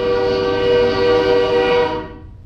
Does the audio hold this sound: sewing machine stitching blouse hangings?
no